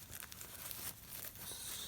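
Plastic bag packaging around an HD 1080p eyewear video recorder is handled while it is opened. Close, continuous crinkling and rustling runs for about two seconds with no talk.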